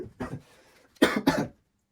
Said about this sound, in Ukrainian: Якийсь кашель